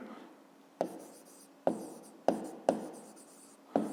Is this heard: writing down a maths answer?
yes